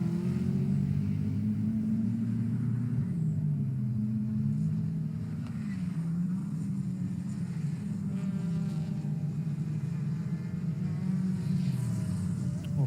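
A Ford Focus race car in a CNC Heads championship round at Oulton Park circuit, its engine a steady rumbling drone heard from a distance, holding a constant level throughout with no voices.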